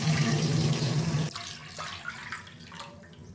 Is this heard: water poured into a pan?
yes